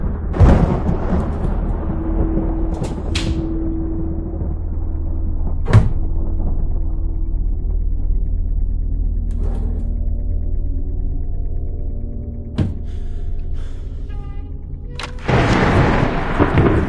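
Thunderstorm in the horror game Madison, a deep sustained rumble of thunder with sharp cracks scattered throughout and a heavy, loud roll building at the end.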